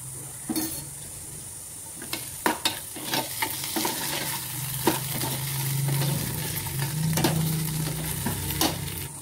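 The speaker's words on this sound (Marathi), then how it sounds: "आता मी थोडीशी त्याच्यामध्ये आलं लसूण पेस्ट ॲड करते" Steady sizzle of onion and ginger-garlic paste frying, with frequent sharp scrapes and clinks of a spoon stirring in a pan, close and continuous with no voices.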